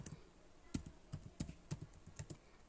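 Keystrokes on a computer keyboard while text is entered in an Excel spreadsheet, a quiet, irregular run of light clicks lasting about three seconds with no talking.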